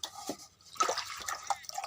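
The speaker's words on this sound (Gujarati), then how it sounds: "કુંડમાં બે ડબલા પાણી નાખી દઈએ" Water is poured from cans into a village bird-water tank under a neem tree, splashing and gurgling in a few short, uneven bursts, quiet and close.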